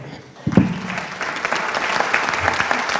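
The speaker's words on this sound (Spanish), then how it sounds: "les quiero pedir un aplauso para quienes no están y nos están mirando desde arriba" Applause breaks out from the audience at a national livestock genetics congress, a dense sustained clapping that swells after a brief quiet start and carries on steadily at moderate distance.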